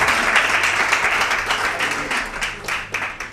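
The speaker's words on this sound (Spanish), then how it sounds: "Dele fuerte el aplauso al Señor, porque Él se lo merece" A church congregation at a morning service claps strongly, a full, continuous round of applause that gradually softens toward the end.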